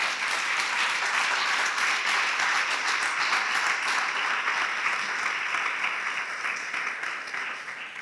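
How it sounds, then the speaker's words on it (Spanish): Congregation applauding during a Spanish-language church service, a full, even wash of many hands clapping together, sustained before fading gradually at the end. "Dale un aplauso al Señor, por favor"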